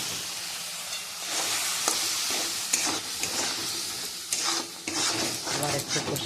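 Spice masala is stirred and fried in a pan, a loud hissing sizzle with repeated spatula scrapes and knocks against the metal, the rhythm pausing and surging as it is turned over.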